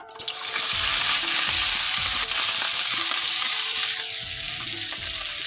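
Vegetables and onion hit hot oil tempered with Bengali five-spice, giving a loud, steady broadband frying sizzle that starts abruptly and holds throughout, with faint clinks of stirring and no voices.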